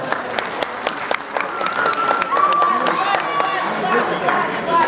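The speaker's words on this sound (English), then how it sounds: "how about a huge round of applause for your guest of honor one more time?" Guests at a bat mitzvah party clap for the guest of honor in a room, starting with scattered individual claps that build into fuller group applause, with murmured talk and a sustained tone beneath.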